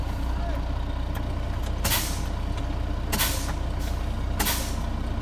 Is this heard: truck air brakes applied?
yes